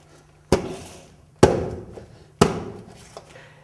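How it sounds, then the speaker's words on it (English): Three sharp taps knock laminate flooring planks together into place, each a loud close knock with a short decaying ring, spaced about a second apart, with faint softer knocks between and no talking. "pick up the whole row and clip it into the first row, somewhat like this. Tap it in like this."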